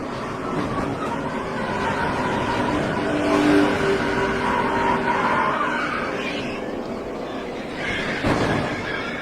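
Race cars crash at the 2009 Aaron's 499 NASCAR race, with roaring engines, a swelling rush of cars passing close, and a sharp impact burst near the end, all under commentary and a crowd.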